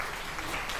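A short burst of dense crowd applause rings out in Microsoft Flight Simulator after a landing, loud and steady, a hiss of many clapping hands lasting under a second.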